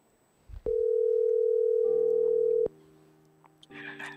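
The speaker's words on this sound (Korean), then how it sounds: "먼저 전화를 연결해 보겠습니다." A telephone tone sounds while a call connects: a loud, steady single-pitch tone holds for about two seconds, then a softer multi-tone signal continues, with faint noises around it.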